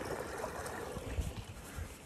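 Flowing water rushes steadily in a chilly cave beside a waterfall, a soft continuous wash with no talking.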